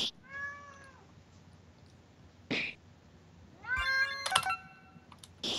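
A house cat meows several times, with a long drawn-out cry at the start and a rising, strained yowl later, close by against quiet room noise.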